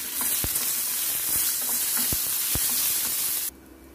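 Fenugreek seeds, coriander seeds and red and green chillies frying in oil in a pan, a bright continuous sizzle with a few sharp stirring clicks, cutting off abruptly near the end.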